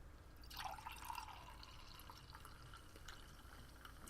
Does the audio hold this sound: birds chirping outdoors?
no